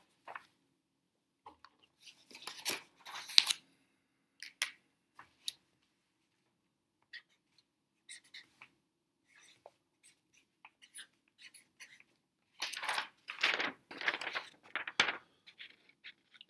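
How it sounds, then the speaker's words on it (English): Chalk or marker taps and scratches on a lecture-room board, coming in scattered bursts with longer dense strokes near the start and end, moderately close, with no talking. "I guess I should write that down for you"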